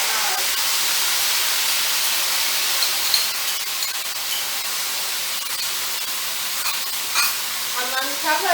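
Beef stir fry tossed with soy sauce and oyster sauce in a hot pan gives a steady close hiss and sizzle with soft scraping stirs, plus a few brief clinks near the end.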